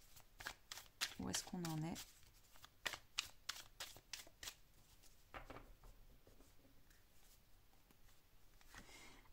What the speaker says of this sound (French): On va retirer une carte sur chaque colonne